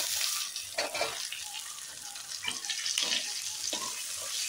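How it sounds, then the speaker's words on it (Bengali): Onion, capsicum and red and yellow bell peppers frying together in a pan, a steady close sizzle with occasional stirring scrapes and clatter. "পেঁয়াজ আর ক্যাপসিকাম আর রেড বেল পেপার আর ইয়েলো বেল পেপার আমরা একসাথে দিয়ে আমরা ফ্রাই করছি"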